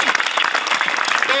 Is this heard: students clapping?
yes